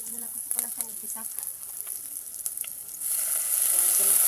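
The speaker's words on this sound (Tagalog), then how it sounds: "Ginigisa." Ingredients for coconut soup sautéing in a pan, a steady close sizzle with stirring that swells louder toward the end, while a voice is heard softly early on.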